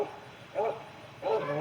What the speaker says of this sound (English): Here comes the barking.